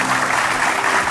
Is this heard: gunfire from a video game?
no